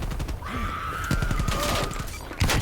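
A Street Sweeper shotgun firing rapidly in Call of Duty: Black Ops Cold War, its quick, loud blasts following one another closely over a dense, noisy in-game background.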